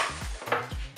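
An egg is cracked into the bowl of a Cookeo multicooker: a few sharp, close taps and light clinks of shell against the bowl in quick succession.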